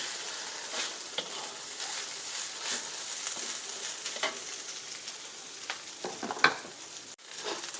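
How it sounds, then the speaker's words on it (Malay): A spatula stirs and scrapes nasi goreng fried rice and its crust around a hot pan, giving a steady sizzle with repeated scraping strokes up close. "Kacau kerak ni. Biar dia tak melekat."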